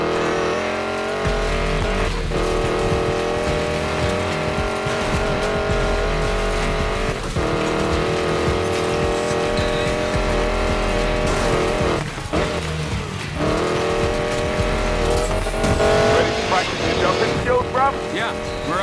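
Hypercar racing engine and tires in the Need for Speed Payback video game, with a sustained engine roar and occasional squeals running under loud game music, and voices intermittently layered on top.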